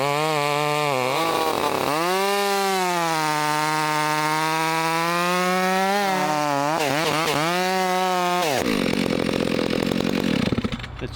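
A chainsaw cuts down a box elder tree, its loud, close engine buzzing steadily with its pitch dipping and rising as it bogs into the wood, then rougher noise as the cut finishes.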